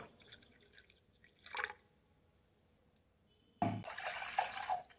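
Water is poured in a small amount into milk in a pan for tea, heard close up as a brief splash followed by a longer, livelier trickling pour, with quiet room tone between and no talk.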